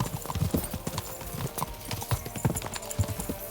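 Horses gallop with rapid, clattering hoofbeats in the medieval game Kingdom Come: Deliverance II, a continuous loud rhythmic clip-clop with a hint of a whinny.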